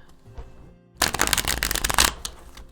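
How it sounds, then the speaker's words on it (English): A deck of tarot cards is shuffled in a quick, loud riffle lasting about a second, followed by a couple of softer card flicks, with no talk over it. "So let me shuffle the deck around."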